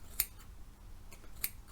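Sharp scissor snips trimming the damaged ends of long, naturally curly hair, two crisp cuts well apart with a faint third between, close and alone without talk.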